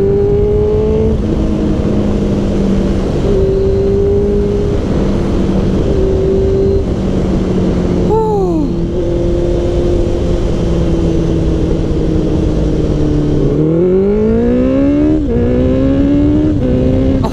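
A Honda CBR650F motorcycle accelerates hard from the rider's position, its engine note rising and dropping through several quick gear shifts, loud and continuous over wind rush.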